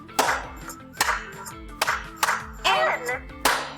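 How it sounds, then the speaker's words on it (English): Pre-K children clap in a steady rhythm, several sharp claps landing over a backing song with a singing voice in a classroom St. Patrick's Day activity. "4 times. 4 claps."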